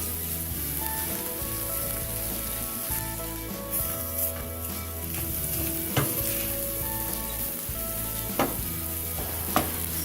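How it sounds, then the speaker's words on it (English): Vegan meat and onions sauté in a pan for a Mexican picadillo, a steady close sizzle with occasional stirring scrapes and clicks, no voices. "Saute them along with the meat."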